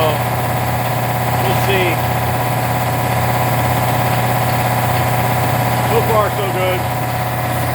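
An electric motor drives an air compressor fitted with a new replacement pump, a steady droning hum with constant vibration throughout, while someone talks briefly over it.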